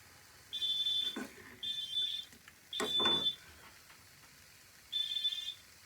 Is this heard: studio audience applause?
no